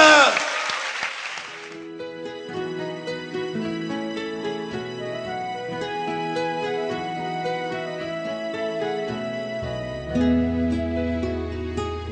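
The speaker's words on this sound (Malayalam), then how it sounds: "ഒരു നല്ല കയ്യടി കൊടുത്ത കർത്താവിന്" Applause in a Christian church meeting, a dense burst of clapping for the Lord lasting under two seconds, quickly giving way to loud sustained worship music with keyboard tones that carries on to the end.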